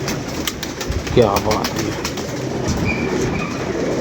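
Pigeons coo amid a dense, noisy background at a Lahore pigeon-keeping gathering, the soft calls partly masked while someone speaks briefly nearby.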